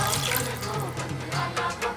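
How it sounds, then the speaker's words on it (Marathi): A short stream of water pouring and splashing into a pan of spiced crab curry, fairly close and steady throughout. "त्याच्यामध्ये आपण पाणी ॲड करूया"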